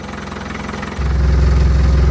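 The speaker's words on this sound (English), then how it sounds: "So now looking at the meter reading inside the cab at idle with just the hood mat in there" Land Rover Defender engine idling as heard from inside the cab with a hood mat fitted, a steady low throbbing drone that steps up louder and heavier about a second in, then holds constant.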